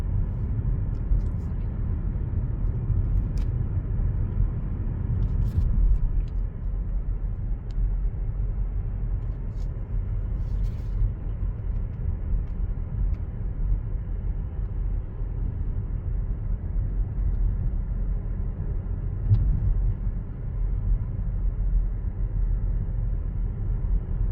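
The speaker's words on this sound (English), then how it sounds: "you can actually hear the blow off now going off on this thing." A turbocharged Infiniti QX50 with a modified intake makes a steady, loud engine rumble, with a few brief hissy bursts from the blow-off valve scattered through the drone.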